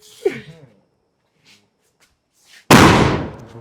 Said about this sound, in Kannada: ಫಸ್ಟ್ ಟೈಮ್ ಎದ್ಕೊಂಡು ಪಟಾಕಿ